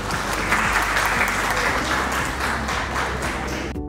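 Audience at an achievers award ceremony claps in a dense, steady wave of applause lasting the whole stretch and cutting off abruptly at the end.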